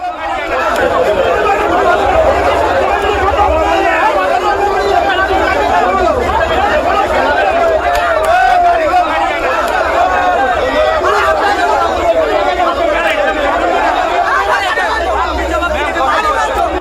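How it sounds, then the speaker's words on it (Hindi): An angry crowd gathers at a hospital, producing a dense, continuous babble of many overlapping voices that stays at a steady, loud level throughout. "इसी अस्पताल में पीए को लाया गया, भीड़ जुटने लगी, लोगों में गुस्सा था, आक्रोश था।"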